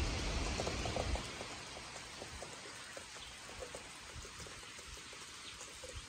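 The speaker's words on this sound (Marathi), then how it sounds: "जोरदार पाऊस." A heavy Konkan monsoon downpour makes a steady, dense hiss of rain on surfaces, louder for the first second and then a faint, even wash with scattered drips.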